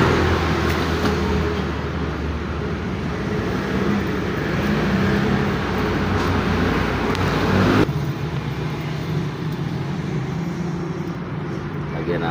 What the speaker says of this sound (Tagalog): Maraming truck na dumadaan.